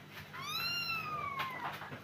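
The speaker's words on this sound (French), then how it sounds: "Oh petit chat!" A house cat at home gives a single drawn-out rising and falling meow, clear and fairly close, with a short second mew near the end and no speech over it.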